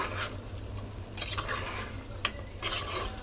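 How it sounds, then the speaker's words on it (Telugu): A spoon stirs chicken curry in a pan after chili powder and salt go in, with a low steady sizzle under a few scraping strokes. "కారం ఉప్పు మంచిగా వేసుకున్న తర్వాతకి మంచిగా ఒకసారి అయితే కలుపుకోవాలి"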